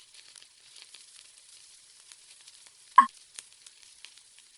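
Whole spices for vegetable pulao dropped into hot oil in a pot, giving a faint, steady high sizzle with a brief louder crackle midway; no talking.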